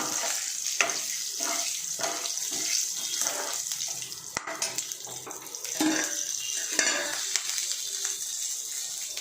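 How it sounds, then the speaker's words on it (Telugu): Whole spices such as cloves, cinnamon stick, bay leaf, stone flower, kasuri methi and shahi jeera frying in hot oil for pressure cooker biryani, giving a steady close sizzle with brief crackles throughout, no voices. "ఇవన్నీ వేసి మనము ఇలా వేపుకోవాలి ఆయిల్లో"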